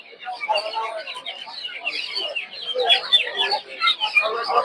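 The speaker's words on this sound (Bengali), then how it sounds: "তো দেখতে পাচ্ছেন এদিকে হচ্ছে টাইগার মুরগির বাচ্চা" Chickens cluck in a crowded rural poultry market selling native ducks and hens, including tiger chicks and layer hens, a busy layered chatter of bird calls and crowd noise running throughout.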